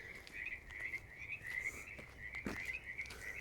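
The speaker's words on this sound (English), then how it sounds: "you can hear more frogs are talking" Frogs croak on a nature walk near a skate park, a dense chorus of overlapping calls close by, steady throughout, with no talk.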